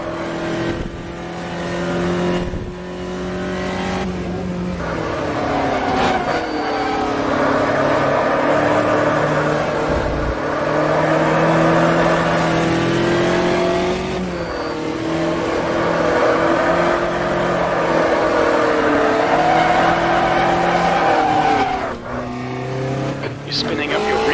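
A VW Fusca race car in the Automobilista sim, Copa Fusca at Caruaru, its engine revving hard and steadily for the whole stretch, pitch climbing and dropping through gear changes, loud and close with occasional brief dips.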